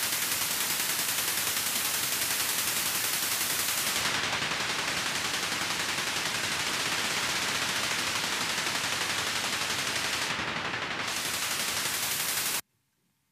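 Dense, continuous rattling noise texture from the Kepler plug-in in FL Studio, resembling a rapid drum roll, loud and unbroken for about twelve seconds before stopping abruptly.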